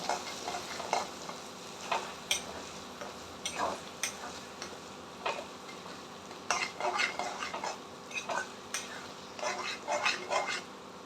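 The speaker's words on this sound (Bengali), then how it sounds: "দিয়ে আবার সেই ভালো করে নাড়াচাড়া করো, ভালো করে কষতে হবে" Mutton with beaten sour curd frying and being stirred in a pan, a soft steady sizzle broken by repeated scraping and clinking of the spoon against the metal, fairly quiet and close.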